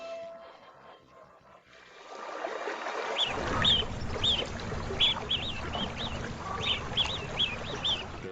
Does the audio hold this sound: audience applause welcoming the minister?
no